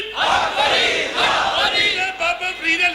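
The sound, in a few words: crowd chanting religious slogans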